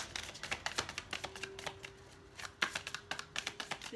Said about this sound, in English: These cards are a bit harder to shuffle.